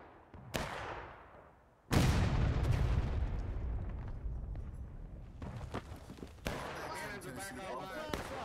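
Cannon artillery fires in the American Civil War game War of Rights, with loud booming blasts that roll out into long decaying echoes, one after another, and more distant crackling gunfire between them.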